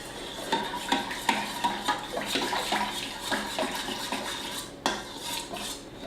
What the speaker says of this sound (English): Stir this together, make a nice little slurry